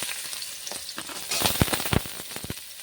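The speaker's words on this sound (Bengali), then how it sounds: "প্রথমে আমি উচ্ছেটা একটু ভেজে নেব।" Thin-sliced bitter gourd frying in oil, a soft crackling sizzle with scattered pops and light stirring scrapes, fairly quiet and close.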